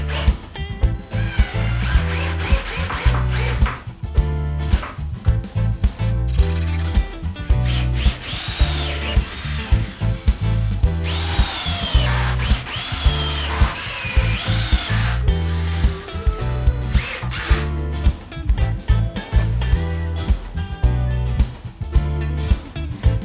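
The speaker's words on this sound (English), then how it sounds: "then I'll screw them in" A power drill drives screws through solid legs into a wooden waney edge bench seat, its motor whining loudly and steadily in repeated bursts with short gaps between, up close and alone without talk.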